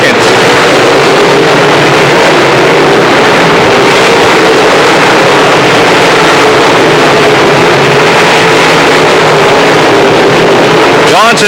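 Late model stock cars racing side by side down the back straightaway, a loud, dense, continuous engine roar with a slight swell near the end, heard from trackside.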